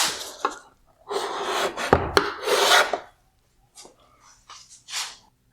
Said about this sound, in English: I'm going to go ahead and put a big scratch in this light